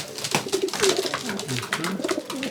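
Young pigeons coo in a loft, a steady near chorus of soft rolling calls overlapping throughout with a faint rustle behind them.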